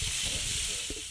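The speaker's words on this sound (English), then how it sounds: "They took a quick break frying up sausages for their morning kai." Sausages frying in a pan outdoors at a stadium site in Rotorua, a steady close sizzle and hiss with faint low clatter underneath.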